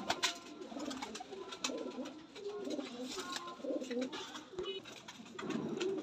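A dub-breed pigeon of a breeder pair coos in soft, repeated low calls, close but faint, with some background noise.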